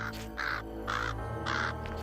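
Raven giving three loud, harsh caws at an even pace, close and clear over a steady low background rumble, with a fainter fourth call starting at the end.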